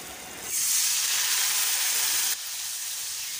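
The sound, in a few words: water added to dry fish mixture in hot pan, sizzling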